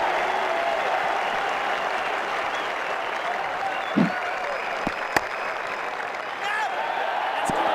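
Cricket crowd at an India v Australia Test match applauding a six, steady sustained clapping and cheering filling the whole stretch, with a few sharp claps standing out near the end.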